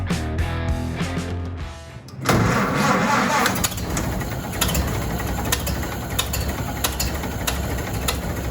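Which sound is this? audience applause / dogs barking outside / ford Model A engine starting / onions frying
ford Model A engine starting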